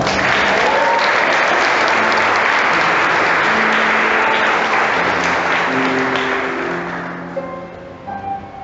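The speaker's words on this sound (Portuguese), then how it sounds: "Aplauda a Nossa Senhora." A Catholic congregation applauds during a sermon, loud dense clapping from a large crowd that carries on for several seconds before gradually thinning out and fading.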